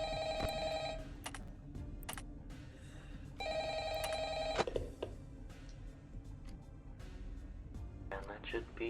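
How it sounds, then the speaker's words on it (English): A telephone in the horror game Five Nights at Firckbear's 3 rings in repeated electronic bursts, with a pause between rings. A voice talks quietly over it and there is some low background noise. "I will listen to this phone call"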